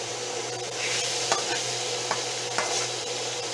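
Beef and broccoli stir-fry in a pan on a stovetop turned down to setting 7. A steady sizzle runs throughout, broken by a few sharp utensil scrapes and taps.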